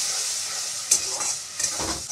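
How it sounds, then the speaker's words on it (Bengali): Spices with cumin and chili powder frying in oil in a pan, a close, steady hiss of sizzling with a couple of brief scraping stirs, no voices. "আধা চামচের মতো লঙ্কা গুঁড়ো দিয়ে মশলাগুলো কষিয়ে নেব"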